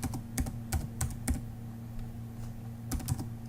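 Computer keys are tapped in short irregular bursts of clicks, close and moderately soft, over a steady low electrical hum, with a pause in the middle before a final cluster of keystrokes.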